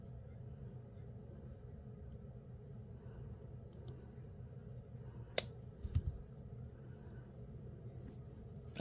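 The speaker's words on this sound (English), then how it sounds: "now we're going to snip that off" Jewelry wire snipped while a necklace is made: a single sharp metallic click of cutters close by, followed by a couple of faint taps over a low room rumble.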